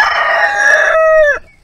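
A rooster crows once, loud and close, a long bright call that drops off at the end, heard alone on a quiet morning in the mountains of Benguet.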